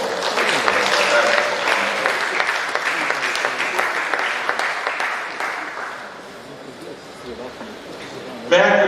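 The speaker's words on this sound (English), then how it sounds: "Please a round of applause for" An audience at a university life sciences research conference applauds a professor, dense sustained clapping that tapers off, with a voice rising over it near the end.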